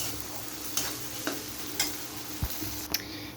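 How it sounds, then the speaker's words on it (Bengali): Egg curry masala frying in a pan while being stirred, a steady close sizzle broken by several sharp spatula scrapes and taps spaced about half a second apart; no talking. "এবার এটাকে ভালো করে নাড়িয়ে কষিয়ে নিতে হবে"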